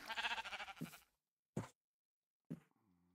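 Sheep in a Minecraft AbyssalCraft mod game, one wavering bleat followed by two short clipped bleat sounds separated by silence, clear and close.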